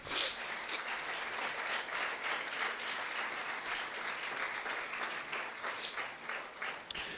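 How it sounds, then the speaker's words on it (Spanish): A Sunday church congregation applauding for the Lord, an even, moderately quiet rush of clapping from many people that holds steady for several seconds before tapering. "un aplauso al Señor"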